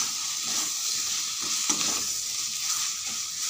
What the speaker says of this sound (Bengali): আলুগুলো দিয়ে এবার কষিয়ে নেব।